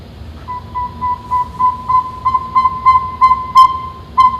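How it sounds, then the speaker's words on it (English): A saw-whet owl calls in a steady series of high, whistled toots repeating at a quick, even pace, growing slightly louder, heard alone against a quiet background. "Now I want to play the sound of a saw-whet owl for you."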